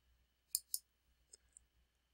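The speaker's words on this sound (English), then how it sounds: "clicking this stop button up at the top is causing it to convert to an MP3" Mouse clicks on the stop button of a recording app: two sharp, close clicks in quick succession, followed by two fainter, lighter clicks, all near and isolated against near-silence.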